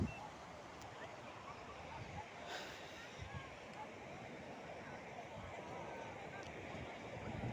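Sea waves wash onto the shore at Puri beach in the early morning, a soft, continuous rushing surf heard from nearby at low level, with faint voices in the background.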